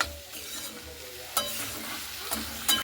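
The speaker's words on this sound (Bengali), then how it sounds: "এরপরে পুঁই পাতাটা দিয়েও খুব ভালো মতো করে এইভাবে নাড়াচাড়া করে নিচ্ছি" Malabar spinach leaves fry in a pan under a steady sizzle, with a spatula stirring and scraping in a few sharp knocks against the metal, close by and without speech.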